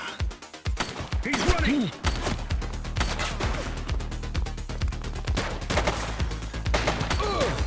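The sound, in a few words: gunfire from the video game The Precinct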